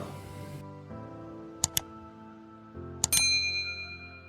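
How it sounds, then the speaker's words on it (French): A notification bell chime rings out twice as sharp, bright dings over a soft musical background, with the second chime letting a shimmering tone trail away. "active également la cloche de notification pour ne manquer aucune de nos vidéos"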